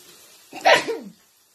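A single sharp sneeze bursts out close to the mic at a home mukbang meal of chicken, carrots and potatoes, rising quickly and trailing off within about half a second, with quiet room tone before and after.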